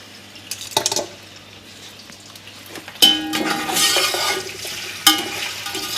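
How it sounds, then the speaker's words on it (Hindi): Chunks of boiled mutton or beef, drained of stock, frying in hot oil in a pot for Afghani Kabuli pulao: a steady sizzle with stirring and clattering against the pot, louder bursts at a few points, no talking. "अब इसी तेल में मैं गोश्त को फ्राई कर लूँगी"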